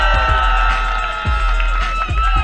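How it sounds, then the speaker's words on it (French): Spectators at the Red Bull Tout Shuss ski race in Avoriaz, 2019, cheer loudly with ringing shouts and tonal calls over a heavy low rumble, a close, continuous outdoor crowd din. "J'aimerais que vous applaudissiez, s'il vous plaît."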